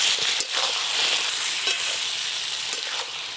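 Malabar spinach with potato, pumpkin, ginger-cumin paste, chili powder and salt fries in a pan, a steady close sizzle broken by occasional stirring scrapes, with no talk.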